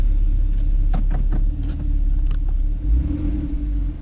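Porsche 911 Carrera 4S (997 Gen 2, six-speed manual) running with the sports exhaust engaged, a loud, deep, throaty idle rumble close by, with a few sharp clicks and small bursts over the steady drone.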